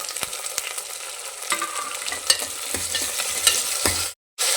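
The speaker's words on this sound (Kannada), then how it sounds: "ನೋಡಿ, ಟೊಮೊಟೊ ಹಾಕ್ತಾಯಿದ್ದೀನಿ." Tomatoes dropped into hot oil in a pan while cooking lentil sambar, giving a steady close sizzle with scattered stirring clatters and brief spatula knocks, then a short dropout near the end.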